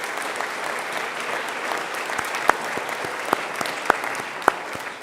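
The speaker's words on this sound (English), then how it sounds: "Give yourselves a round of applause." College graduates applaud at a commencement ceremony, a broad steady wash of clapping from a large crowd with a few sharp louder claps standing out near the end.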